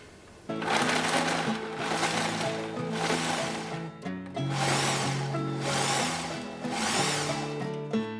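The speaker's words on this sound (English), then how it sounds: "my 2/3 cup of minced garlic that I ran in the food processor" A food processor minces garlic in a kitchen, its motor whirring loudly in three long pulses separated by brief pauses, with no talking.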